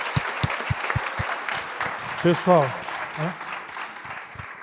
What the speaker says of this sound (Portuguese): Salve de palmas, gente.